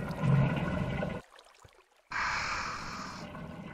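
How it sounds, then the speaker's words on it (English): Rushing, pouring water in the Minecraft game, a short gush that cuts out, then a second brighter surge resembling a toilet flush, moderately loud and heard alone. "Sounds like a freaking toilet bowl flushing."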